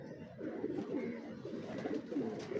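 Sialkoti pigeons coo close by in soft, repeated throaty phrases, one after another over a low background hum.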